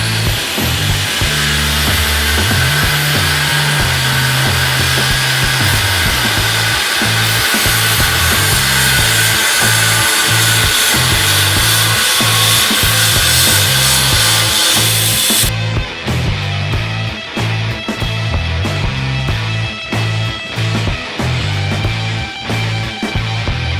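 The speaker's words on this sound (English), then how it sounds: "in some situations the cutoff wheel works best just because of the angle" A cutoff wheel grinds through brackets on a Jeep frame, a loud continuous high whine with rough rhythmic chatter and shifting pitch as it bites into steel, close and sustained.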